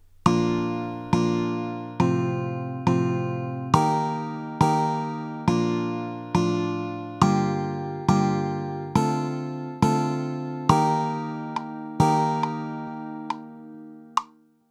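A plucked, bright synth-like tone strikes chords on a steady eighth-note grid, quantized in GarageBand, evenly spaced and decaying between hits, ending with a final ringing note. No voices.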